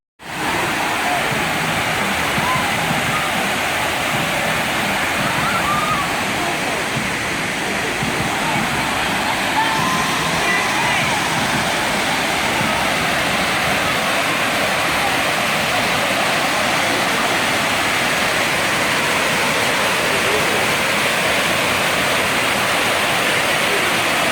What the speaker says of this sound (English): It's a river and a falls together, so as you come there, you will see that it just goes down.